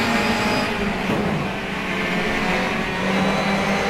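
Engines of touring race cars in a racing video game, a dense, loud continuous roar of several cars together at a race start, steady throughout with no speech.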